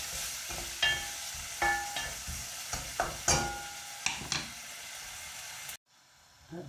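Food sizzles gently in a pan over low heat, a steady frying hiss broken by soft stirring scrapes and light clinks, close and moderately loud, cutting out abruptly near the end.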